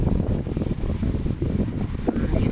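Strong wind blows toward a house past swaying trees and coconut palms, gusting into the microphone as a loud, continuous rumbling roar.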